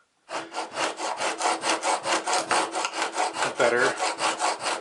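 Steel chisel pushed back and forth on a clamped diamond sharpening stone, about a dozen even rhythmic rasping strokes, close and steady, with a brief spoken word partway through.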